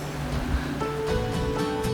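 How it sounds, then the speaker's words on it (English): A creek runs past a flat trailside campsite, its steady broadband wash of flowing water holding evenly throughout, with no speech over it. "We've got this creek running down."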